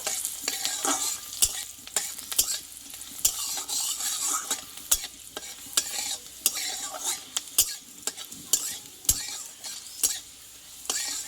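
Green chilli, ginger and panch phoron fry in hot oil with turmeric while a metal spatula stirs. A steady, close sizzle runs throughout, broken by repeated sharp scrapes and clinks against the pan, with no talking.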